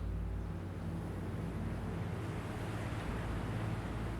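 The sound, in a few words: ocean waves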